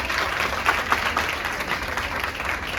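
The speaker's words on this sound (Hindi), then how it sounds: "मैं चाहूंगा एक बार जोरदार क्लैपिंग होनी चाहिए।" A banquet hall audience claps together in a brief, moderately loud burst that stays steady, with a few sharper claps standing out in the mix.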